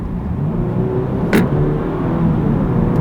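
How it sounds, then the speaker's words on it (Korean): A 2023 Audi A5 Coupe 45 TFSI quattro in comfort mode hums steadily with a low rumble as it pulls away under firm throttle, building gently without a sharp roar; one brief click cuts through midway. "악셀을 조금 세게 밟아줘도 왕 하면서 나가는 소리가 그렇게 세지는 않습니다"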